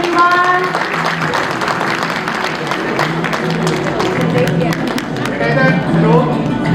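Audience applause at a school Grandparents Day celebration honoring medal winners, steady dense clapping and crowd noise sustained throughout, loud and close, with tonal background sounds mixed in.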